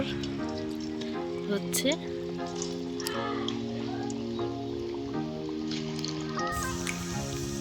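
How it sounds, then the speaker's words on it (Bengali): Chicken shahi kebab patties fry in hot oil with a soft, steady crackle that sits low beneath steady tonal music and a brief voice. "তেল গরম হয়ে গেছে। এবার টিকিয়াগুলো ভেজে নেব। চিকেন শাহি কাবাব ভেজে নেব।"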